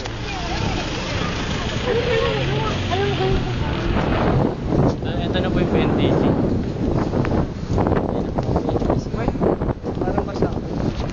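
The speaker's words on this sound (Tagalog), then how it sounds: "Grabe, ang hangin." Strong wind roars and buffets the microphone throughout, a constant loud rumble with gusts, and voices talking faintly beneath it.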